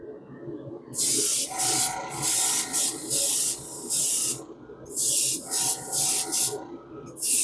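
An aerosol spray can hisses in a run of short bursts of varying length, separated by brief pauses, as a light coat goes onto a 1/64 scale John Deere toy tractor. The spraying is close and loud, with no talk.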